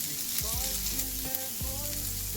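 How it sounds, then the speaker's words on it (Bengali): Garlic and a little grated ginger fry in hot oil with a constant close sizzle, while a few low tonal clanks and scrapes of utensils against the pan sound over it. "এর মধ্যে রসুনটাকে দিয়ে দেবো, দিয়ে দিচ্ছি অল্প একটু পরিমাণ গ্রেট করা আদা"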